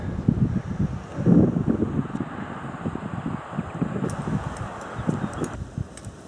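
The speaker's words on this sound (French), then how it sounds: "Le vent s'est levé, mais ça fait vraiment du bien." Gusty wind buffets the microphone on a hiking trail in the Hérault hills, rumbling loudly in uneven surges throughout with no talk.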